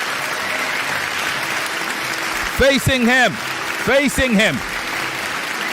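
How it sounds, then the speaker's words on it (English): A debate audience claps steadily for a young debater at a semi-final, the even, dense applause continuing while a host speaks over it in two short bursts. "Once again, round of applause for this young lad."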